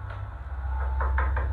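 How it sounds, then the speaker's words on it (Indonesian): Several sharp knocks on a door land in a quick cluster near the end, following a low steady hum; no one speaks. "Gitu banget suara ketokannya ya."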